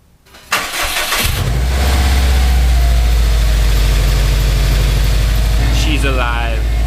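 A Subaru WRX with a newly installed clutch slave cylinder and stainless clutch line cranks briefly, catches and settles into a loud, steady, rumbling idle close by, with a short rise in revs near the end.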